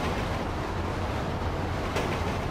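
A train rolls past in the video game GTA 5, a steady, loud rumbling roar of wheels and cars that fills the whole stretch, with a brief sharper burst near the end.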